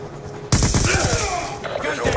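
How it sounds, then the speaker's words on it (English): Death Machine minigun spinning up and firing in Black Ops 2 on the Raid map: after a short quiet lead-in, a loud, sudden, sustained stream of rapid shots rattles on to the end. "Death machine spinning up."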